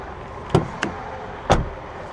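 A 2008 Humvee door being worked gives three short, sharp thuds, each one distinct and close, spaced unevenly over about a second against a quiet outdoor background.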